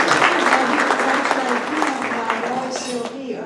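An audience claps steadily for a few seconds at a recognition ceremony for Paul Harris contributors, the applause fading slightly toward the end.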